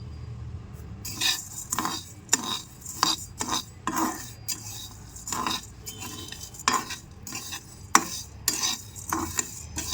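Coriander and cumin seeds being dry-roasted in a pan, a spoon stirring and scraping against the metal in irregular clinks and rattles, with a faint low sizzle underneath and no talking.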